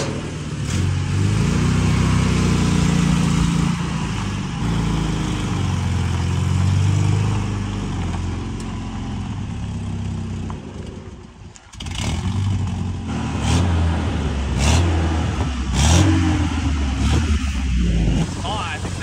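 The engine of a small Dodge Ram 50 pickup runs with a loud, steady idle rumble, then revs up in several rising bursts that fall back to idle.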